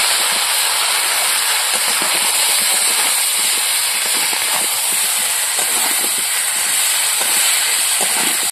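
Chili paste, turmeric and spices sauté in hot oil for a catla fish curry, giving a steady, loud, unbroken sizzle and hiss that runs the whole way through with no talk.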